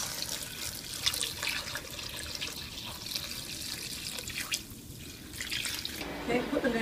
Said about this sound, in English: So we're just going to put in some water to cover.